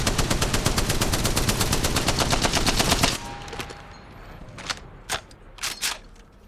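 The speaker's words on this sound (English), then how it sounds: "I don't use the Spitfire very often, but it is a very, very good gun for beginners" Spitfire light machine gun in Apex Legends firing a loud, rapid, even burst of automatic shots for about three seconds, followed by quieter clicks and a few sharp distant shots.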